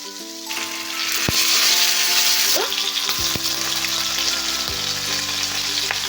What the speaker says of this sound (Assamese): এতিয়া মই ইয়াতে মাছখিনি ভাজি ল'ম।